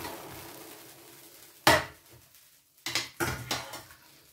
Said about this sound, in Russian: И все хорошо перемешиваем.